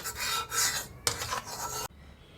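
Ghee being rubbed around the inside of a cooking pot for chicken biryani, close scraping and rasping strokes in two long sweeps with a brief pause between, then a sudden stop.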